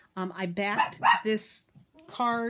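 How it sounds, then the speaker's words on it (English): A pet dog barks at squirrels indoors in a home craft room, with a few sharp, close barks mixed in with someone talking over them. "Sorry about the dog. She's barking at squirrels."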